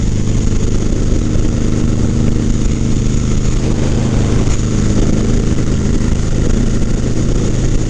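A Suzuki C90T cruiser motorcycle is ridden on the road with no windscreen: a steady low engine drone with strong wind rush over it, loud and close the whole time, with no speech.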